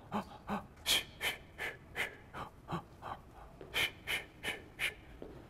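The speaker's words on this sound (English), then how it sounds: "I want you to do some consecutive breaths in and out." A person takes a steady run of consecutive breaths in and out as a breathing exercise, about a dozen close, evenly spaced airy puffs with no talking.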